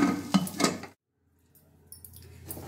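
A pressure cooker lid is closed, giving a couple of sharp metallic clanks and scrapes up front, then a pause and faint rattling as it settles.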